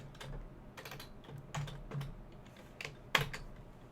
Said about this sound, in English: I think I can just type neofetch